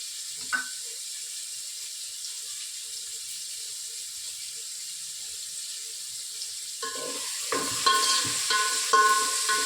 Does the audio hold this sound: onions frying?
yes